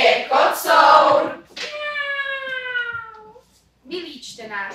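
A tomcat lets out one long, clear meow that slowly falls in pitch, set between stretches of a person talking before and after it.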